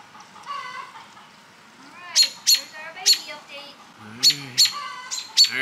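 Chickens cluck and squawk in a backyard coop area, a series of sharp, close calls in two clusters against a quiet background.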